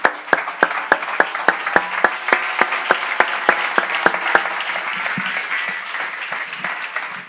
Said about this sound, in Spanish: Démosle un aplauso, Señor.